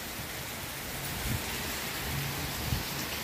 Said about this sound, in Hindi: तो फ्रेंड देखो आप लोग कितनी ज़्यादा बारिश है।